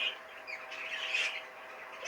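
A cock or hen chicken, a show bird judged in a shed, calling with shrill squawks and chirps at close range, fairly steady over a couple of seconds without talk.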